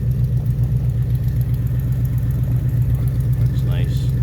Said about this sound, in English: It's nice, dual exhaust.